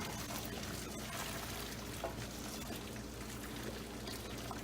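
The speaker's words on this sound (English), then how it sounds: "and drain the water in a colander" Steady rushing pour of pasta water draining into a colander in a sink, continuous and fairly loud, with no voices.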